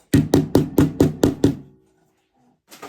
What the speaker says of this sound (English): We just use my little hammer.